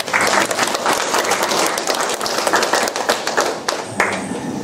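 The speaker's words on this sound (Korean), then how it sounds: "찬양단 박수 한번 치십시오." A Korean church prayer-breakfast audience applauds a women's choir with brisk, lively clapping, uneven and close, continuing throughout with a few sharper claps.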